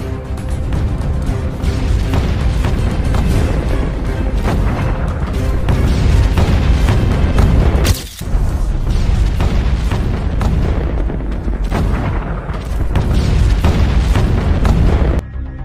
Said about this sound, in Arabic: وتفاجأ الجميع بقوة وضخامة المدفع العثماني، واستمر القذف